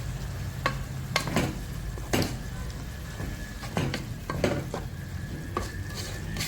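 A spoon scrapes and knocks through squid rice with spices in a hot pan, several distinct clinks and scrapes over a constant low sizzle, close and fairly loud, with no voices.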